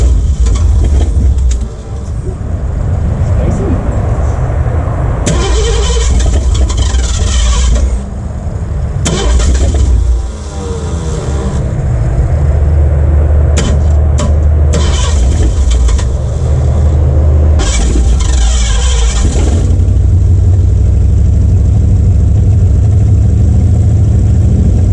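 A Ford Galaxie 500, abandoned in a barn since 1993, cranking and catching, then revving roughly in loud repeated surges with a rumbling uneven idle between them, close up.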